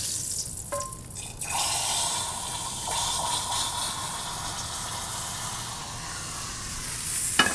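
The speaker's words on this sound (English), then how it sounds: "So what I do now is I'll take this fat that's inside the pan" Hot steak fat poured out of a searing pan, with a steady hissing sizzle and liquid splash that runs continuously, close and fairly loud, with a few clanks of the pan at the start and end.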